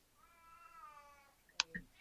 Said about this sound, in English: No, yeah, that's my cat.